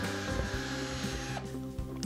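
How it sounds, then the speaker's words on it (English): Power drill fitted with a 3/8 bit bores holes into a sign, a steady whining motor hum with slight shifts in pitch as the bit bites, close and alone. "I'm going to drill holes into my sign."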